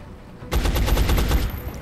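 Gunfire in the XCOM Enemy Unknown video game: a short, loud, rapid burst of automatic shots that starts suddenly and rattles on for about a second before fading.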